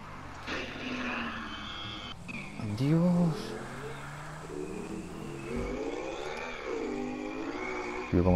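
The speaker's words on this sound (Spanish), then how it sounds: "cómo suena esa moto" A motorcycle engine in Grand Theft Auto V revs and whines through shifting pitches, accelerating and easing off, with a voice speaking briefly over it.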